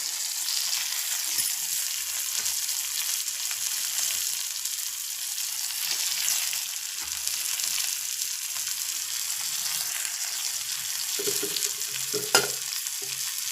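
Grated coconut fries with tomato in a pan, a continuous soft sizzle and hiss that runs evenly throughout, with a clink of a utensil near the end.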